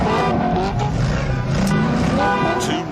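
Several V8 car engines roar and rev together, loud and close, with a brief tire squeal and a few sharp bursts over the dense, continuous engine noise.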